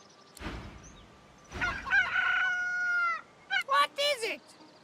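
A magic cockerel crows in the video game Divinity: Original Sin 2, a loud drawn-out cock-a-doodle-doo followed by a few short, sharp clucks, close and alone after a couple of brief knocks.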